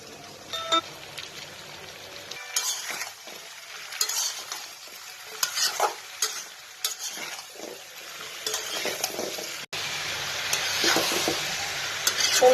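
Pumpkin pieces sizzle and fry in a pan with browned onions, stirred repeatedly with scraping, clattering strokes over a steady hiss that grows denser toward the end; no talking.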